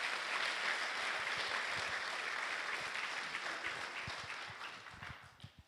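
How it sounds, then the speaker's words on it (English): A church congregation applauds steadily at a Sunday worship service, a dense wash of clapping that gradually thins and fades toward the end. "Give Harriet a big round of applause"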